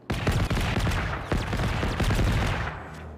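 Gunfire from a VTOL robot in the video game Generation Zero, a dense burst of rapid shots rattling almost continuously, loud and close, with a short break partway through.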